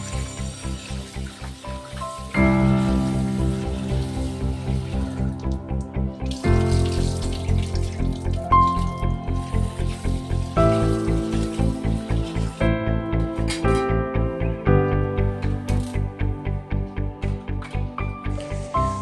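A bowl of raw rice, about one cup, rinsed under a running tap: a loud, steady stream of water with a pulsing, sloshing rhythm as the grains are swirled, and no voices.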